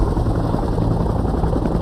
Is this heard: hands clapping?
no